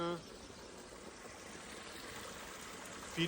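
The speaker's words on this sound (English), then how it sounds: "Little rivulet, little stream feeding" A small stream trickles through Sequoia National Park, a soft steady babble of water close by, faint and continuous, with brief voices at the start and end.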